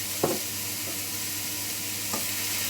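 Potatoes and bell peppers stir-frying in a pan sizzle continuously and quietly, with two distinct scraping stirs of a spatula near the start and end.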